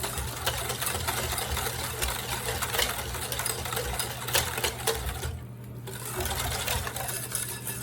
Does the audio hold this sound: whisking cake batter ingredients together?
yes